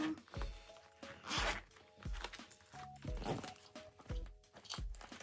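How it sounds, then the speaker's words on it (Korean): A stiff zipper on a photo card binder is pulled open in a series of short, faint rasping strokes. The zipper sticks and does not run smoothly, and the sound is quiet and close up indoors. "이렇게 지퍼를 열고"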